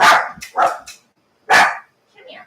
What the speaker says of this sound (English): He's got a big bark.